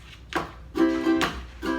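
A ukulele strummed on the offbeat, short bright chord strokes separated by gaps, a few accented strums in a loose rhythm, close and moderately loud.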